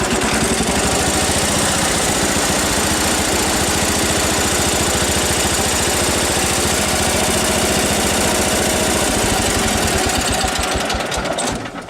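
A John Deere 317 garden tractor engine, a smoky running machine, runs loud and close with a rough, rapid knocking chug held steady throughout, with no talk.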